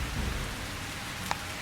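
Steady rain hisses across wet stone streets at night in Calvino Noir, a dense, even wash with one brief sharp drip or tap near the end.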